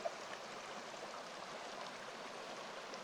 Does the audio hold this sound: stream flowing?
yes